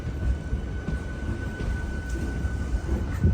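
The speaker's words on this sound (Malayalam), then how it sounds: "ട്രെയിൻ ഇപ്പോൾ അടുത്തൊരു സ്റ്റോപ്പിലെത്തിയിരിക്കുകയാണ്." Train pulling into Yelahanka Junction railway station near Bengaluru, a steady low rumble of wheels and carriage noise with a faint constant whine running throughout.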